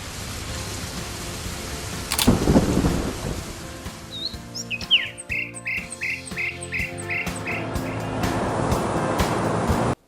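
A sharp thunder crack bursts out and rumbles on, with chirping birdlike tones and steady rain-like noise continuing afterward.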